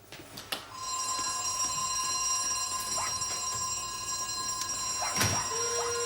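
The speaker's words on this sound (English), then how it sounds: "Sound the alarm." An alarm rings in a house, a steady electronic tone sounding continuously at moderate level with a few sharp knocks and bumps around it.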